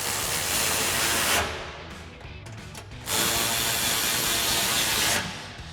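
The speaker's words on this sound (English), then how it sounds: "tighten this down with our 10 mil socket" A ratchet with a 10 mm socket tightens an exhaust clamp bolt on an EcoBoost Ford F-150 during an MBRP single exhaust install. Two long, dense bursts of close mechanical whirring are split by a short, quieter gap.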